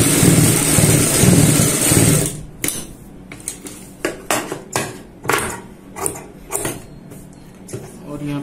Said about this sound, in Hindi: बाहर की साइड यहाँ पे सिलाई लगाएंगे।